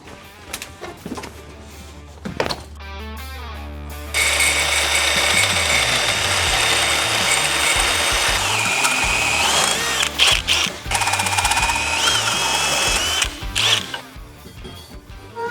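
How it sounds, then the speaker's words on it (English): Steel tube is cut and bent for a roll bar on a camper build: irregular mechanical clanks come first, then a long, loud, steady grinding and whining run with shifting pitch. "cut some more tube, bend some more tube,"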